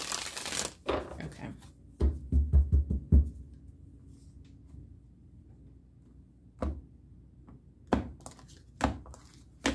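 Tarot cards are shuffled in quick riffling bursts and slapped down, a few close crisp flutters and taps with a brief spoken word.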